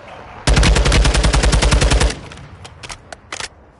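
Gunfire in the video game Warzone 2: a loud, rapid automatic burst of about a dozen and a half evenly spaced shots, followed by several fainter scattered single shots and short bursts.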